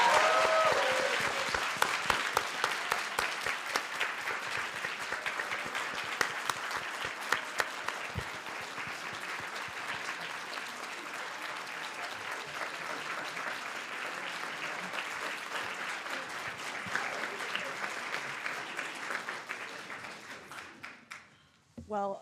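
A large audience gives sustained applause for moot court competition finalists, steady dense clapping that carries on loudly for over twenty seconds before tapering off abruptly at the end.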